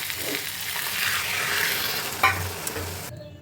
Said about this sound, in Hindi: और अब हम इसमें पानी डालेंगे।